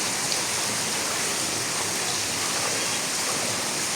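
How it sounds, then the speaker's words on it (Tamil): Floodwater pours into a Hindu temple, a steady broadband rushing like a stream or heavy rain, loud and unbroken for the whole stretch, with no voices. "அப்படி கோயிலுக்கு உள்ளுக்கு தண்ணி எல்லாம் போயிட்டு இருக்காங்க"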